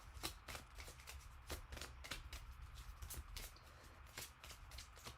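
An oracle card deck is shuffled by hand in quick repeated riffles and slides, a run of crisp, soft papery bursts close to the microphone, quiet overall with no talking.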